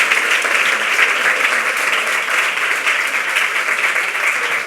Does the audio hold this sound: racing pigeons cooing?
no